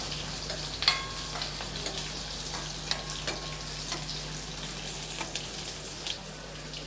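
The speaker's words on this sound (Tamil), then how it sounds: "கொஞ்சம் செவந்து வர்ற அளவுக்கு நல்லா வதக்கி விட்டுடலாம்" Shallots and curry leaves sauté in a pan, giving a steady soft sizzle with scattered light clicks and stirring taps and no voices.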